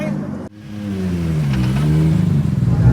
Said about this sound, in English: 2 girls rolling up in a Calsonic liveried A31 on a Sunday morning.